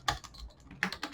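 Quick, light keystrokes on a computer keyboard as HTML code is typed, a short close cluster of crisp clicks.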